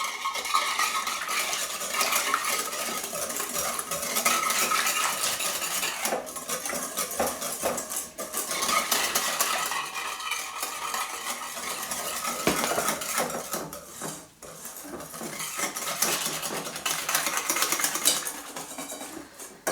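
Flour being stirred into a batter for lemon leaf fritters, a steady scraping and clinking of utensil against bowl that runs continuously for the whole stretch, fairly close and with no talk over it.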